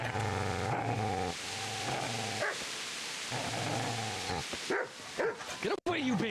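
A dog in the video game Kingdom Come: Deliverance barks, yips and whimpers repeatedly at close range, mixed with speaking voices throughout.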